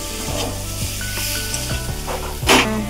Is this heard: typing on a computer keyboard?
no